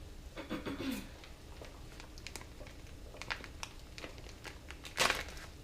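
Quiet crinkling and snipping sounds of scissors cutting through material, irregular and close, with a sharper crisp cut near the end.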